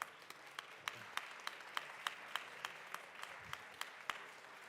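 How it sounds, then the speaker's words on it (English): Applause in the Colorado House legislative chamber welcoming guests in the gallery, an even patter of many hands at moderate distance, fairly soft and steady for several seconds. "let's give them a warm applause"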